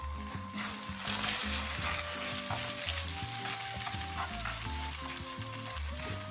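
Eggs sizzling steadily in a hot pan while being stirred and pushed around, a continuous close crackling fry with scraping strokes, and low background music underneath the whole time.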